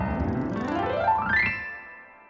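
A quick piano run ascending through the registers from low to high, notes blurring together as they climb and ending on a ringing high note that fades, played solo and close.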